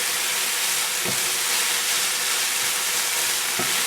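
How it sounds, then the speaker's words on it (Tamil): Banana flower frying in hot oil, a steady broadband sizzle and hiss that stays even throughout, with two brief soft knocks from stirring or the pan. "இந்த வாழைப்பூவை வந்து சும்மா ஒரு ஒரு ஒரு நிமிஷம் நம்ம வந்து ஃப்ரை பண்ணிடலாம்"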